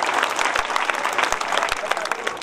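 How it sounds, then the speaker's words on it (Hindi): A village crowd breaks into applause at a local celebration, a short burst of dense clapping at moderate volume with a few sharper claps standing out. "उनके लिए भी स्पेशल तालियां"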